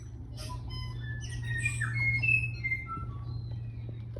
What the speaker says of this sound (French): on peut entendre le chant des tuis